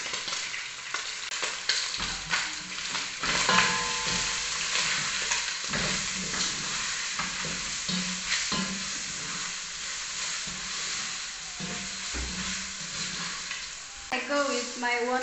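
Beef pieces for pilau, seasoned with masala, sizzle and fry steadily in a pot, with repeated scraping stirs and a constant hiss throughout and no talking.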